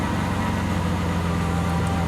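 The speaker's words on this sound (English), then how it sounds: "This is Strada, listen to the exhaust." Lamborghini Aventador Anniversary exhaust in Strada mode, a steady low engine drone that holds at an even, moderate level with no revs or breaks.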